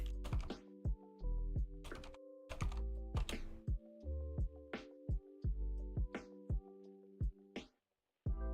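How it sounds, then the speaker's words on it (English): Rapid typing on a computer keyboard, a steady clatter of close keystrokes over soft tonal background music, ending in a brief silence. "I'm gonna do a lot of typing here."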